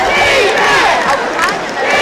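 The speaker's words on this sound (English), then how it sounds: "Wayne County's crowd into the ball game shouting defense." High school football playoff crowd chanting defense in unison, a loud, dense roar of many voices filling the stands.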